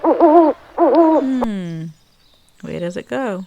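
An owl's hooting call, a few drawn-out hoots with a falling tail, near and clear, alternating with a person talking.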